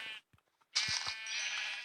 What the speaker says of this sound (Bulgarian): И още една овца, но малка.